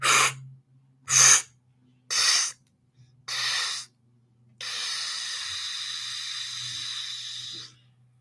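A person does a Metatronic Kriya breathing exercise with teeth together: four sharp, evenly spaced forceful breaths through the teeth, then one long, steady hissing exhale, all close and loud.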